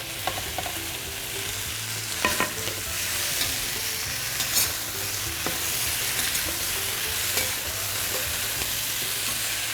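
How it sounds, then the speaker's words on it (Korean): Steady crackling sizzle of potato, tomato, zucchini and eggplant being stir-fried in a pan for tomato curry, with occasional louder clatters as they are stirred; no voices. "이 볶아지는 소리 들리세요?"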